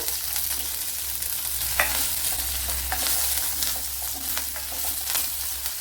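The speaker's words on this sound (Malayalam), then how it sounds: "ഒരു സ്റ്റീൽ പാത്രമായതുകൊണ്ട് തന്നെ ഭയങ്കര പൊട്ടലാണ്" Spices crackle and splutter fiercely in hot oil in a steel pan for a sadya-style parippu curry: dense, continuous frying hiss with frequent popping bursts, close and loud, with no voices.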